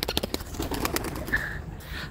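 A caught male and female pair of pigeons kept indoors give a soft, low coo, heard close amid light rustling and clicks with no talk over it.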